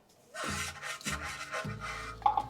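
Brush scrubbing a car wheel during a wash, three close rasping strokes in a rough back-and-forth rhythm, fairly quiet with no talk.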